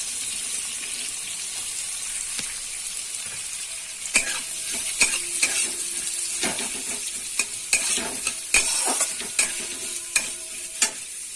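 Onions frying in a pan, a steady close sizzle that grows busier midway as a spatula scrapes and stirs in irregular strokes.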